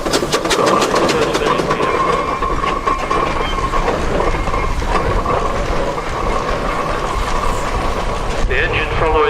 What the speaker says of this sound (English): This is a compound engine, a D-type,